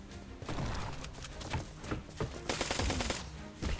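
Rapid bursts of enemy gunfire in the airship combat game Black Skylands, sharp repeated shots crackling over a busy game soundscape, growing denser toward the end.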